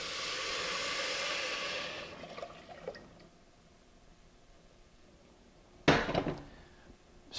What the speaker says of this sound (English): I'm going to add my stock.